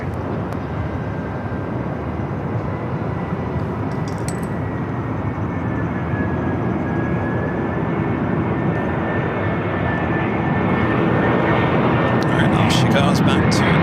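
A jet airliner takes off at LAX, its engines roaring loud and steady throughout with a rising tonal whine, while a radio voice speaks over it.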